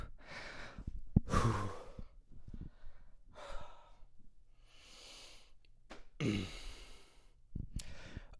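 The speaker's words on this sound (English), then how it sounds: "man, I'm really out of breath right now" Someone out of breath heaves several heavy, rasping breaths close by, alternating audible inhales and sighing exhales with short pauses between them.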